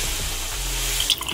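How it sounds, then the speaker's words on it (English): A water hose spray sound effect, a steady close hiss of rushing water that runs evenly, then ends in a few brief splashy spatters, with no voices. "here the water hose spray returns"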